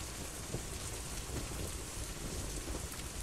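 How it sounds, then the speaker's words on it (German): Steady rain and rolling thunder in the survival video game Out of Reach, a dense, continuous hiss of falling rain with low rumbles underneath, heard alone without speech. "Okay, jetzt regnet's."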